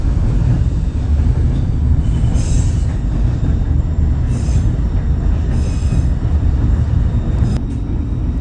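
A narrow gauge train in Skagway rumbles steadily along the track, low and continuous, with faint high wheel squeals now and then.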